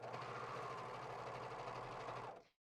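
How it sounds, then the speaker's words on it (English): A serger sewing machine stitches and trims T-shirt fabric in a steady, fast, whirring hum that runs loud and even for a couple of seconds, then stops abruptly, with no voices over it. "So we'll just sew forward a little bit."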